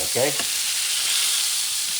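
Pork tenderloin searing in extra virgin olive oil in a cast iron pan, a steady close hiss and crackle of frying that runs throughout, with a brief spoken word near the start.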